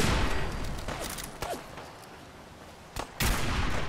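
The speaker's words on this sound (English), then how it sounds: "Quit shooting me." Enemies fire at the player in Fallout 4, with loud gunshots and bursts of fire over a rumbling battle din, including a few sharp isolated shots and a heavy blast near the end.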